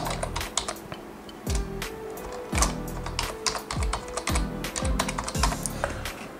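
Fast, steady keystrokes on a computer keyboard as an email address is entered, a close, crisp run of clicks with regular heavier thumps, likely the space bar or other large keys, and no talking.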